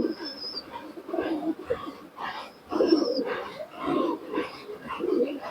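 Giribaz racing pigeons at a West Bengal pigeon tournament coo in repeated, rhythmic throaty phrases, close by and moderately loud.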